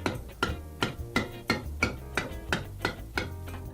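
A hammer gently taps the bowed-out bottom of a cleaned tin can flat, about ten sharp metallic knocks in a steady rhythm, close and fairly loud, with no voices.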